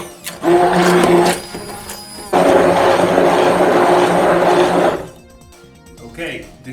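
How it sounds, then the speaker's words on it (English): An immersion blender whirs loudly through a pumpkin mixture in a home kitchen, running in two bursts with a short pause between them, then stopping, after which a voice speaks. "Okay, this immersion blender has done its work."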